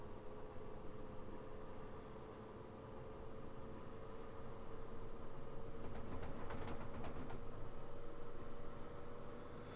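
An ICE high-speed train in Train Simulator 2020 runs with a steady rumbling drone and faint tonal hum, growing slightly louder midway with a brief cluster of rhythmic rail clicks, no voices present.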